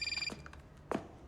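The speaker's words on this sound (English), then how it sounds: "Eli, mute your fucking phone." A phone rings in a scene from the video game Saints Row (2022). It gives a short, bright, pulsing electronic trill for about a third of a second, then falls silent apart from low background noise and a brief vocal sound.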